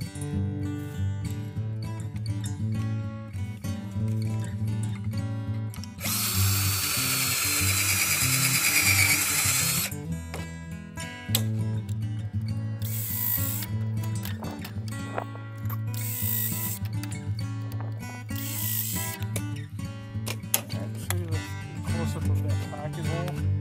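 A power drill bores pocket holes into wood for building an enclosed raised garden, with a whining high-pitched burst of several seconds and shorter bursts later over a steady background hum.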